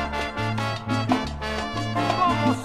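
Old-school New York style salsa recording with a slow, mellow groove: steady bass pattern and bright brass or piano chords repeating in a danceable rhythm, full and continuous.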